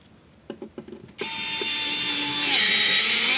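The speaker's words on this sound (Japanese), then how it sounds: "この電動ドライバーは大きなトルクがあるところは通常の電動ドライバーよりも不向きです" A compact electric screwdriver fitted with a short bit for tight spaces gives a few light clicks, then starts a steady, loud motor whine that rises slightly in pitch as it drives a screw, with no talking.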